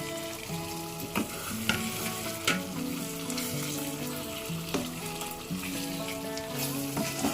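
Paneer cubes get stirred through a thick butter masala gravy in a pan, a soft bubbling sizzle broken by repeated scraping strokes and spoon knocks, while faint background music plays underneath.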